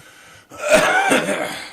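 A single harsh cough bursts out close and loud, right up against the mic, after a moment of near silence.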